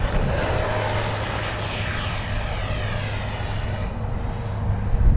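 A Banana Hobby X-FLY T-7A 64mm electric ducted-fan RC jet roars steadily through a low pass of a touch and go, a loud continuous whine with a high tone holding then dropping away near the end, with no talk.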